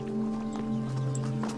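Horse hooves clip-clopping with a neigh, close and steady over a sustained low droning backdrop, the hoofbeats coming in a quick irregular rhythm.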